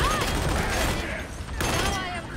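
Rapid autogun fire in Warhammer 40k Darktide, a dense, loud burst of shots running through the whole moment with game effects layered underneath.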